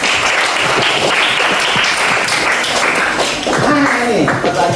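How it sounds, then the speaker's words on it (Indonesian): Audience applause at a school counselling session, a crowd clapping loudly and evenly throughout, with a few voices talking over the clapping near the end. "tepuk tangan untuk Anda semuanya"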